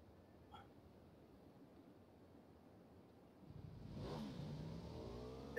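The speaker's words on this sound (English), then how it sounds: "They're in a vehicle." A vehicle engine in the battle royale game PUBG rises from a faint rumble into a louder revving drone partway through, with wind-like noise around it.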